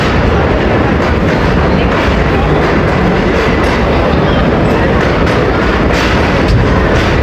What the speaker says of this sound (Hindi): तो चमचमाती न्यू हज़ारा एक्सप्रेस 5 बजे रावलपिंडी पहुंच गई है